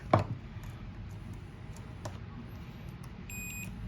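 A digital multimeter on continuity mode beeps once in a short, thin, high tone near the end while testing contacts during an extension cord repair, after a sharp click of the probes at the start.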